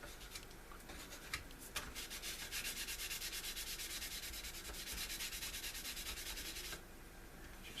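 Sandpaper rubbing over a scale model of an XB-70 Valkyrie aircraft, a rapid rhythmic scratchy back-and-forth scrubbing that starts after a few light strokes and runs steadily for several seconds before easing off, close and alone.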